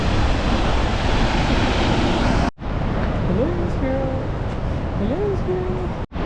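Vernal Fall at Yosemite roars close by as a loud, unbroken wash of falling water with heavy wind buffeting, briefly cut out twice; faint voices and birdlike chirps sit beneath the roar.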